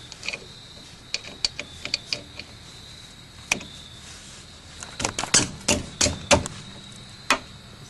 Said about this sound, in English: I use a 14mm socket